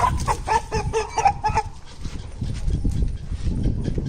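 Clucking from a fighting rooster with a leg ailment close by, repeated in a quick run of calls, then steady rustling and scratching noises with no voice.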